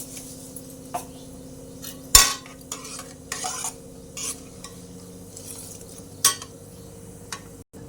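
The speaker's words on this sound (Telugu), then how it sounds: "జీలకర్ర ఇట్లా వేగినాక ఇట్లనే 2 టేబుల్ స్పూన్లు ఆవాలు" Cumin and mustard seeds frying in oil for pulihora, a quiet low sizzle broken by scattered pops and the occasional clink and scrape of a metal spoon against the pan.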